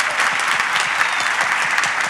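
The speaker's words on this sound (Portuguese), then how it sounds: "ela merece muito aplauso" Loud, dense clapping from an audience, steady and close throughout with no talking.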